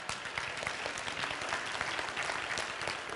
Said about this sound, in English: give Donnie a hand clap.